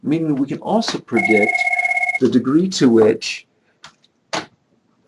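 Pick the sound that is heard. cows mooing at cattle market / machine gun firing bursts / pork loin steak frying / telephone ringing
telephone ringing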